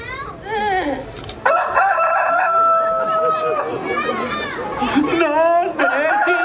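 A puppet character's voice imitates a rooster crowing in a puppet theatre show, with long, loud, rising crows while other voices talk and call out over and around it.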